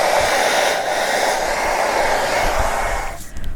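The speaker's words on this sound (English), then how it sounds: "the more I attempt to smooth my hair out with this blow dryer" An InStyler 7X Smart Dryer blow dryer runs at a steady, loud whoosh for several seconds, then briefly dips and falters at the end.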